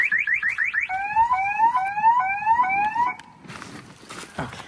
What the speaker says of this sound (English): it has that fake little alarm sound